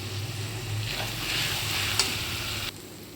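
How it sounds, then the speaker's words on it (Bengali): Spice paste of chili and coriander sizzles in hot oil for mutton curry while being stirred, a steady close frying hiss with the scrape of a spoon and a small clink near the end. "এবারে মশলাগুলোকে আমি ভালো করে কষিয়ে নেব।"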